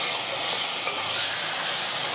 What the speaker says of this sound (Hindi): अब सारी चीज़ों को मिक्स कर लेंगे।